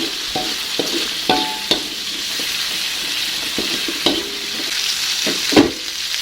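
Seasoning including mushroom stock and pepper being stirred in a sizzling pan for tempeh, a constant bright frying hiss with a few knocks and scrapes of a spatula close by.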